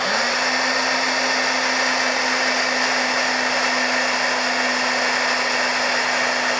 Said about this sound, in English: you will be using your heat embossing tool